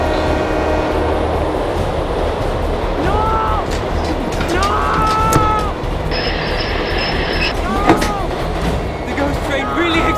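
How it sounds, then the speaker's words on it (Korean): A train runs along the tracks with a loud, continuous rumble and rattle, overlaid by tonal whistling sounds and some voices. "그때 마침 진짜 기차가 달려오면서 카이저가 기차에 치여 죽음을 맞게 된 것이었다."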